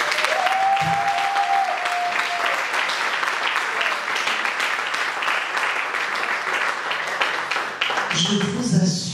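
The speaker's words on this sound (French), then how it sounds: "Est-ce qu'on peut acclamer?" An audience at a conference panel applauds, a sustained, fairly loud burst of many hands clapping that carries on for several seconds, with a few faint voices and cheers mixed in near the end.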